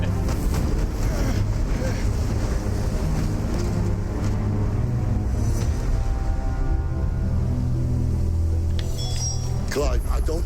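Stormy wind in the video game Final Fantasy XVI: a steady, loud, roaring gust that fills the whole stretch with unbroken broadband noise.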